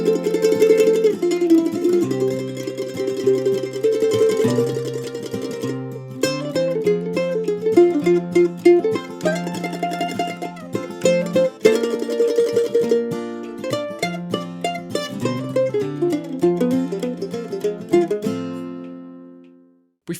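A mandolin plays an advanced introduction to "Banks of the Ohio" in F, in the Larry Rice style, with bright rapid picked notes and tremolo runs over steady chords, loud and close, played solo for about twenty seconds.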